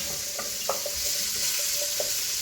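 Mushrooms fry in hot olive oil with a continuous bright sizzle, and light spoon taps and scrapes come at intervals as they are stirred.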